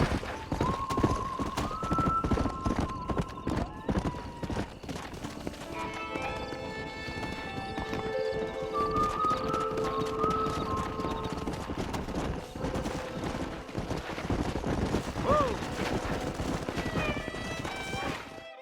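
Horses gallop with steady clip-clopping hoofbeats and an occasional whinny in the Red Dead video game, under a continuous layer of game music.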